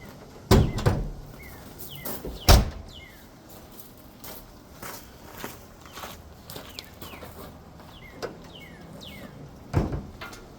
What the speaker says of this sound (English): unlocking your driver door, I guess, and then, popping your hood